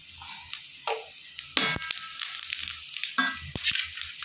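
Onions frying with fennel seeds in a pan give a quiet sizzle broken by a few sharp scraping stirs and clatters, close up with no talk.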